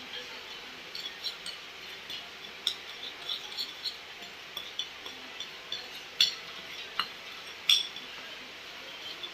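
A teeth-cleaning paste mixed in a small bowl, a utensil giving a series of light clinks and scrapes against the bowl, intermittent and soft, up close with no talking.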